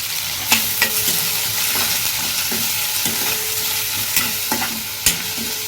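A ground onion and coconut masala is sautéed in a pan with a steady hiss, and a spoon scrapes and knocks against the pan in sharp, irregular strokes.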